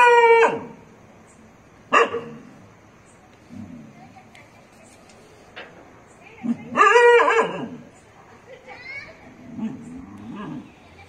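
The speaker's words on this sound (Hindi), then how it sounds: "देखेंगे कुत्ते इतने ज्यादा क्यों भौंक रहे हैं" Dogs bark in sharp, loud bursts on a street at night, a few spaced barks and a clustered volley, with quieter background sounds between them.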